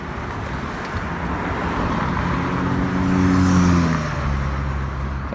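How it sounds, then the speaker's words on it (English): Road traffic on Van Buren Street: a steady wash of passing cars with one vehicle swelling louder as it goes by, engine tone rising then fading. "Just enough traffic on Van Buren today."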